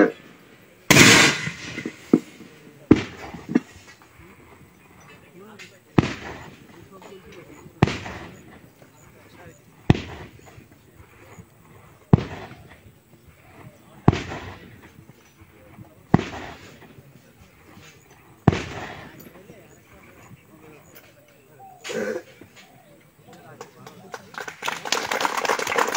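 Bangladesh Army heavy weapons fire in a series of loud, sharp blasts spaced a couple of seconds apart, each booming report followed by a fading echo, with distant voices between shots.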